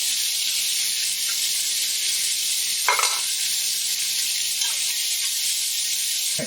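Chopped carrots, celery and onion sauté in a hot pan for a bolognese, giving a bright, steady sizzle throughout with a brief stirring scrape partway through.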